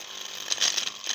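A metal hacksaw blade taps lightly against a rotor in a magnetism test, a brief run of close, thin metallic ticks over a steady hiss.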